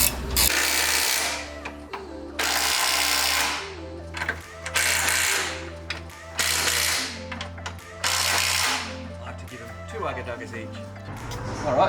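A ratchet tightens the nut on a new front lower control arm of a third-generation Subaru Impreza WRX, in loud rapid bursts of clicking separated by short pauses, close by.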